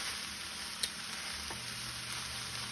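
Okra frying in a pan for blackened okra gives a quiet continuous sizzle with a couple of faint utensil clicks, heard on its own.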